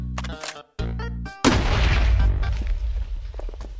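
Gunfire and a blast from a gun mod in Minecraft on a desert map: a few sharp electronic-sounding shots, then a loud boom with a lingering rumbling tail, close and alone.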